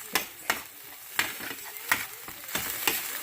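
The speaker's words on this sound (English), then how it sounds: "time to put my garlic. Okay. And mix it" Garlic sizzles in a hot pan while a utensil stirs it, giving a soft steady frying hiss broken by about eight sharp scraping clacks at an uneven pace, close up with no talking.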